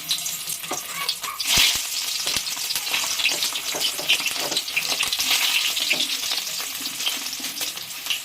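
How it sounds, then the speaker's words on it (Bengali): Stuffed bitter gourds fry in mustard oil in a wok, giving a steady, close sizzle with crackling pops and occasional spatter bursts throughout, with no voices. "এবার করলাগুলোকে আমাদের ভেজে নিতে হবে।"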